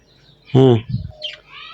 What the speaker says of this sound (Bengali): পাখিগুলো খুবই শান্তশিষ্ট এবং ডাকে সকালবেলা